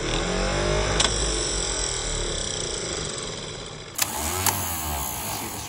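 A car's starter motor cranks the engine as its drive engages the flywheel, giving a steady whirring drone with a sharp click at the start and clunks around each later engagement and release, heard close and alone.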